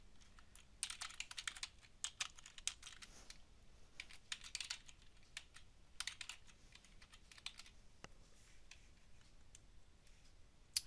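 Code is typed on a computer keyboard in bursts of quiet, fast key clicks with short pauses between runs, close but soft, with no talking.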